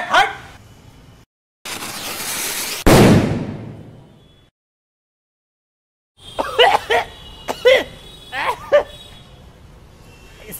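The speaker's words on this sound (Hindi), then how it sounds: "अब इससे भी बड़ा बम जलाऊंगा मैं" A large Diwali firecracker goes off: a rushing hiss of the fuse leads into one loud, sharp bang that fades away. After a silence, voices and dog-like yelps follow.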